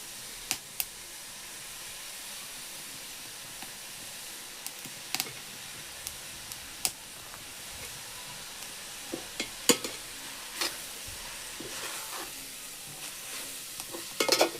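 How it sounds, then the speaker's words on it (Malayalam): Cooked leaves stirred in a pan with crushed onion, coconut and chili, giving a low steady sizzle with scattered light scrapes and clicks of the spoon, close but fairly quiet, with no voices. "ഒന്ന് നല്ലപോലെ ഇളക്കി കൊടുക്കാം"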